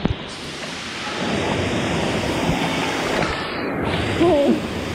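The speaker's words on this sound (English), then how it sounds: "You're in the waterfall." Waterfall at the Discovery Cove water park pours in a loud, steady rushing wash heard from right beneath it, with a brief human vocal sound near the end.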